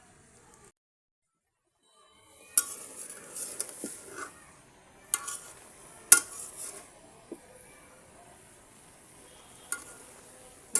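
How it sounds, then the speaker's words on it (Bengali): Red amaranth greens fry in a pan over a wood-fired stove, with quiet sizzling under scattered sharp metallic clinks and scrapes of a utensil being stirred, close by and with no voices. "বন্ধুরা, লাল শাকটাকে আমি এখন নেড়ে দিচ্ছি।"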